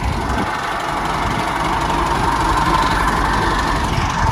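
A Massey Ferguson 240 tractor idles at a village fair gate, a steady, loud, continuous engine rumble with no talk over it.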